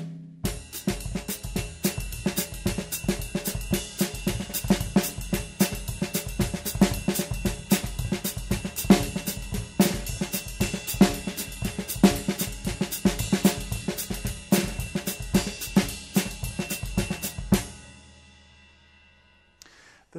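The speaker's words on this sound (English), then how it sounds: "So a common samba would sound something like this." A samba groove played on a drum kit, with steady busy cymbal or hi-hat patterns over bass drum and snare accents, loud and continuous for about eighteen seconds before ringing out and fading into silence.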